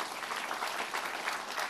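Church congregation clapping and applauding during a worship service, a dense, steady patter of many hands heard at a moderate distance, without pauses.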